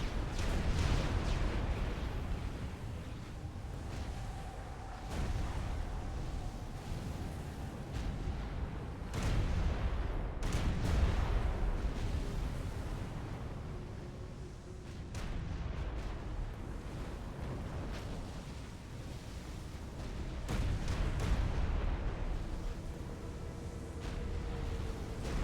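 Artillery and gunfire booming through a Supreme Commander: Forged Alliance battle, with repeated heavy blasts every few seconds over a dense, continuous rumble of distant shooting.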